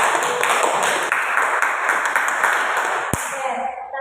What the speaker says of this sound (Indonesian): Boleh tepuk tangan kita.